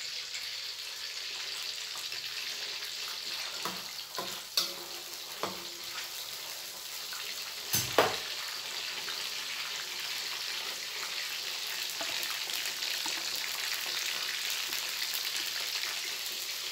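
An egg fries in a pan with a steady, soft sizzle, broken by a few sharper pops and spatters along the way.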